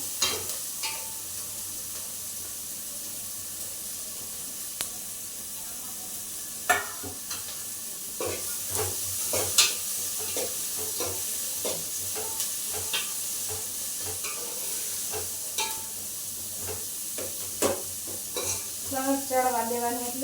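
Finely chopped onion goes into hot oil already seasoned with asafoetida and chillies for a pizza topping, sizzling steadily while a spoon stirs and scrapes the pan in scattered clicks, close and alone with no talk.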